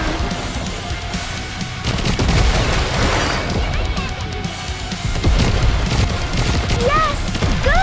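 Gunfire in the game Goddess of Victory: Nikke, aimed at Sophie, with loud, dense, continuous bursts and booms close up alongside game effects and voices.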